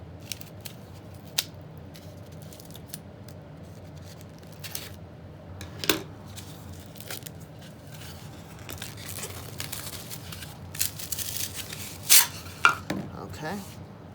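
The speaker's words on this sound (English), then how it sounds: "Now I'm just going to use my scissors to cut it." Intermittent snips and crunchy cuts from scissors cutting foam, irregular and close, with quiet rustling and handling noises in between.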